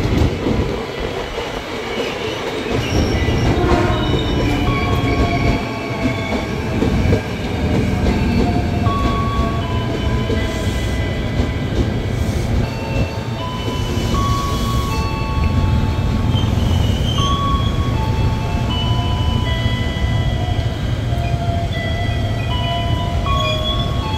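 KRL Commuter Line JR 205 electric train at Cawang station, rolling steadily with continuous rumble and clickety-clack, with motor whine and brief tonal hums over the noise; no voices.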